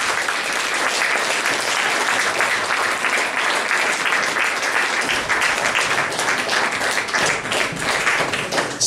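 A concert audience applauds to welcome a singer back onto the stage, with dense, sustained clapping that fills the hall at an even level and no voices over it.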